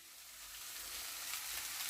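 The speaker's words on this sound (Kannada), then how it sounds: "ನಾನು ಅವಲಕ್ಕಿಗೆ ಒಗ್ಗರಣೆ ಕೊಡ್ತೀನಿ" Spices tempering in hot oil for poha, a steady dense sizzle and crackle of frying that holds throughout, close and continuous with no voices.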